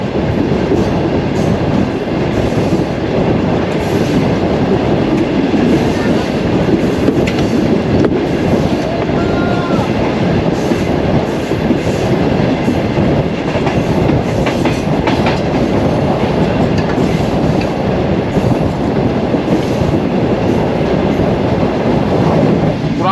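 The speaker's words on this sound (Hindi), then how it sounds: "ट्रेन हमारी सरहारी और नवाबशाह रेलवे के दरमियान में दौड़ रही है।" Shalimar Express train running between Sarhari and Nawabshah, Pakistan, on track under sleeper renewal work: a steady, loud rumble of wheels on rails with rhythmic clickety-clack and brief flange squeals, no voices.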